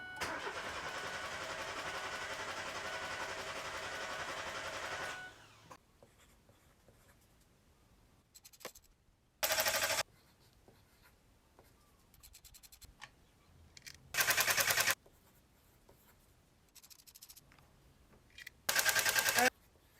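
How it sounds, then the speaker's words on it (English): A car engine cranks without catching during a compression test on an overheating car: a steady, loud churning starter drone runs for about five seconds, then stops, followed by quieter scratching and several short bursts of noise. "So I'm going to crank the engine for probably 10 seconds"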